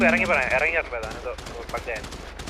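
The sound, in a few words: gunfire in a video game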